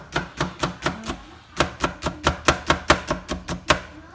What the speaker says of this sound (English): the green onion this is where we're going to create a small small slices